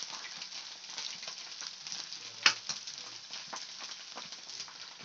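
Chopped green chillies for vegetable chop suey crackle and sizzle in hot oil, a steady close frying hiss with one sharp spatter pop midway.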